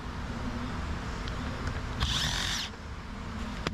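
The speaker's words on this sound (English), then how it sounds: "We're gonna take all these screws out of here." A power tool whirs briefly to remove screws from the underside of a 2018 Volkswagen Tiguan during front bumper removal, one short close burst over a steady background hum.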